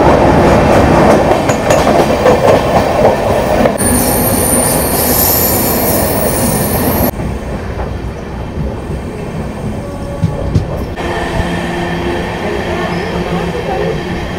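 Loud, continuous rumble of a train running between Chennai and Tirupati on the Saptagiri Express with LHB coaches, heard from inside, with wheel squeal, rattling and clickety-clack, and the texture changing partway through.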